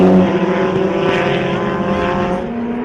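Global Touring Cars race past on a circuit at a motorsport festival, a loud continuous engine roar rising and then easing slightly as the pack passes, close by and without talk over it.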